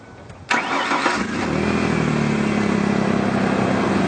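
A truck engine cranks briefly, then catches and settles into a steady idle, loud and close with no talk.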